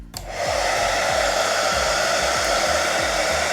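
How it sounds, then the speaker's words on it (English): A steady, loud whoosh of a hairdryer or heat gun blowing continuously to soften sticker glue on an electric scooter, with a low rhythmic motor flutter underneath and no talking. "some sort of heat gun or hairdryer to take the glue off"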